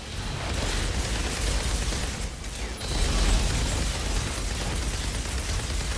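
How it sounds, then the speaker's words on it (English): An explosion booms in the Outriders Worldslayer video game. Dense, loud rumbling noise dips briefly, then swells into a heavier blast near the middle, with no voices. "That was a nice explosion."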